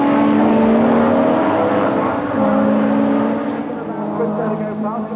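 Touring race cars at a 1988 BTCC race, including a Ford Cosworth, roar loudly and continuously with engine notes shifting as they drive by close, while a commentator talks over the noise.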